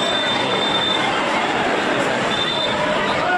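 A packed, crowded train at Tarakeswar station during the Shravani Mela pilgrimage, with a loud, steady roar of rolling wheels and rail noise, a faint high squeal and the murmur of many voices underneath.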